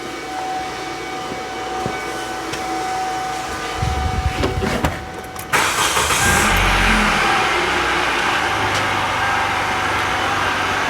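A 2007 Hyundai Elantra with a flickering battery warning light and a replaced alternator is cranked and starts, a brief churning crank then a steady idle rumble that continues close by, with no talk.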